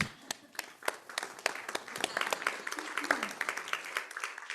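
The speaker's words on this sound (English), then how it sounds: "Let's turn around and give Jim a round of applause and thanks." A church congregation applauds Jim, with sparse, uneven claps building into a modest, moderately loud round of clapping that continues steadily throughout.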